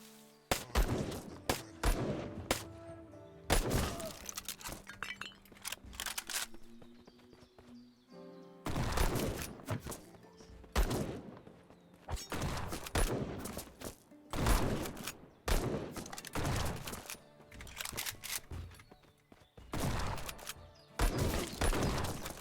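Rifle fire in a video game, sharp loud shots repeating at an irregular pace in close bursts with short pauses, no talk over it.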